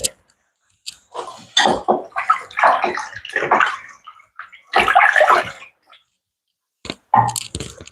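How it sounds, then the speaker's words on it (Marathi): Hands are washed under water in a kitchen before chopping amaranth leaves, with close bursts of splashing and rubbing broken by brief silent gaps. "त्याआधी हात मी स्वच्छ धुवून घेते"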